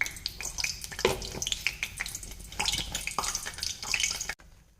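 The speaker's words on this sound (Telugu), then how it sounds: "ఆయిల్ వేడెక్కింది, ఇప్పుడు జీలకర్ర యాడ్ చేసేసుకున్నాం." Cumin seeds sizzle in hot oil in a pan for an onion egg curry, giving a close, steady crackle with scattered sharp pops that cuts off abruptly near the end. No one talks.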